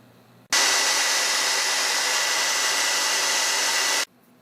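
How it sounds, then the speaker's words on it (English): A hair dryer blows on an iPod Touch 5th generation to warm the screen adhesive, switching on abruptly and running as a loud, steady whooshing whine for about three and a half seconds before cutting off. "I'm going to use a hair dryer to warm that up"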